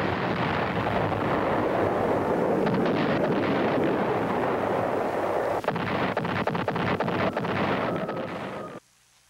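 Distant B-52 carpet bombing at Khe Sanh during the Vietnam War, a continuous rumbling roar of explosions with wind buffeting, a few sharper blasts in the second half before it cuts off.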